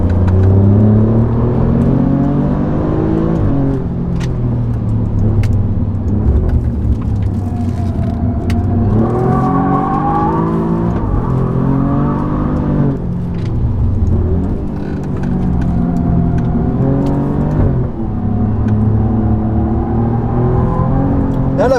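An Alfa Romeo Giulia QV driven hard on a rally drive, engine rising and falling through repeated accelerations and shifts with a loud, close interior roar, while a person talks over it.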